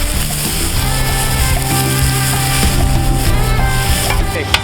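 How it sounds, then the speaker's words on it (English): Onion, zucchini, portobello mushroom, squash and peppers cooking with spices on a flat-top grill, a loud steady sizzle with scraping and stirring close by, continuous throughout. "while the vegetables are cooking"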